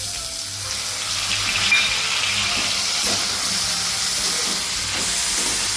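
Tomato frying with reddened onions in a pan for spiced bhindi (okra) gives a steady, moderate sizzling hiss, close and constant, with faint stirring clinks and no talking.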